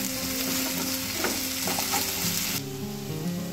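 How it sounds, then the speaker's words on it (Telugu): Ginger garlic paste frying in a pan for a dry prawns and egg bhurji, a steady close sizzle with stirring scrapes throughout, no talking. "ఇప్పుడు మంచిగా కలిపేసుకుని అల్లం వెల్లుల్లి పేస్ట్ పచ్చి వాసన పోయేలాగా కొంచెం వేయించుకుంటే బాగుంటుంది అన్నమాట"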